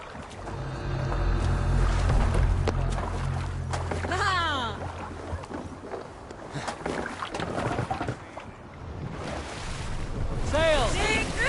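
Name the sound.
sailing ship on wind and waves in Assassin's Creed Valhalla video game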